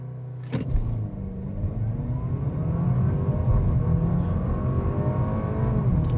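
A 2025 Audi A5 sedan in sport mode does a launch-control start from a brake-torqued hold, its engine revving loud and close, then surging through a steady, rising acceleration roar with gear changes.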